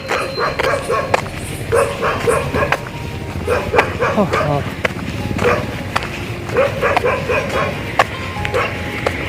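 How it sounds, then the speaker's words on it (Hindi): Several dogs bark and yip repeatedly at a walker passing through their area in India, sharp close barks in irregular bursts, while someone talks over them. "ये जब तक देखते रहेंगे जब तक मुझे भौंकते रहेंगे"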